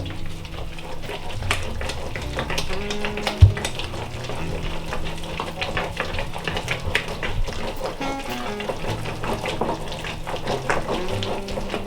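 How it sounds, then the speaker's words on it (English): Eggs are stirred into eclair choux dough with steady, close scraping and wet slapping strokes in a kitchen, continuing without pause and with one sharp knock partway through; no talking. "So I'm gonna put the eggs and then stir it through, and then just stir until it's very well mixed together."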